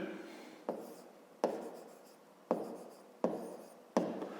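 Pen or chalk writing out a 5th-grade math solution: five sharp stroke onsets, each followed by a scratchy trailing rub, in a steady rhythm, close and moderately loud with no talking.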